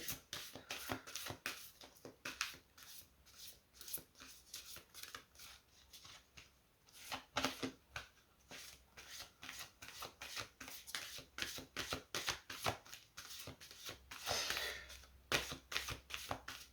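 Deck of oracle cards being shuffled by hand: quiet, crisp riffling and flicking in quick irregular bursts, close by, with short pauses between runs.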